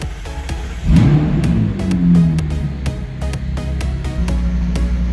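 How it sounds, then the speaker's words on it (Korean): A 2016 McLaren 675LT Spider fires up alone with a loud starter whir and a sharp rising bark, then settles into a steady, throbbing idle close by. "시동 걸어보겠습니다."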